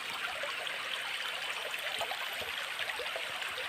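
Water rushes over stones in a shallow hill stream near the Khowai and Kamalpur border area, a steady, close, hissing babble with no breaks and no voices.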